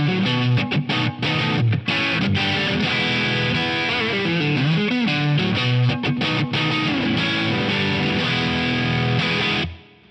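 Heavily distorted electric guitar through an Axe-Fx III's OCD-style Compulsion Distortion model in LP low mode plays chunky riffs and sustained chords, loud and continuous, with no voices, cutting off abruptly near the end.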